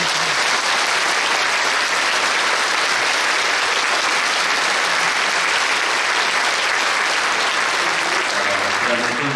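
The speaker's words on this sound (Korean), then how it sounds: "큰 박수로." A large church congregation gives sustained, dense applause to welcome Prime Minister Kim Min-seok at a Korean Protestant service marking the 80th anniversary of Liberation, held at Yonsei Central Church. The clapping is loud and steady throughout, with no break.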